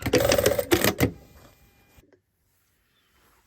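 Sewing machine stitching forwards and backwards on a trouser waistband near a belt loop, a loud, close mechanical whir lasting about a second with a brief stop, then fading to quiet with a faint click.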